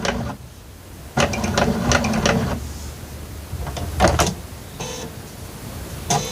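A sewing machine running with a rotating noise from the bobbin case, in short whirring bursts that start and stop, close and moderately loud, with no talking over it.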